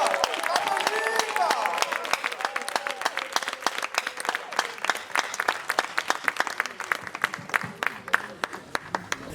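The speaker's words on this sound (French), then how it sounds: "Applaudissez pour ce fils du pays de Houphouët-Boigny" A comedy-club audience applauds a performer from Côte d'Ivoire with cheers and voices at first, then the clapping settles into sharper, sparser individual claps that continue to the end.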